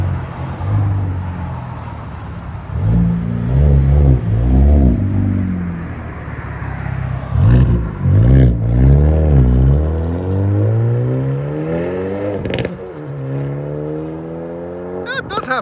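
A 2025 Hyundai Elantra N with a six-speed manual and muffler delete revs loudly and close by in repeated bursts, the engine climbing and falling with a few sharp pops, and someone talking in between.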